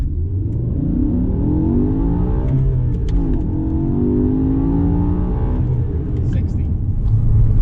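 A manual BMW E60 M5 accelerating hard through a 0 to 60 run, its engine note rising steadily in pitch through the gears, loud and close, with a voice talking over it.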